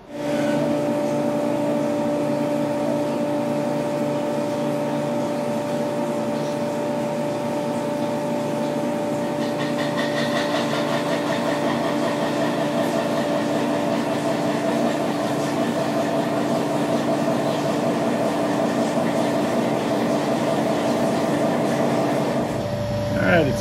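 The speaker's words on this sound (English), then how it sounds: "Let's see how it cuts this harder material." A Tormach CNC mill cutting heat-treated 4140 steel at 300 RPM in low range to make a brake caliper bracket: a steady humming drone with a constant tonal whine that stops abruptly near the end.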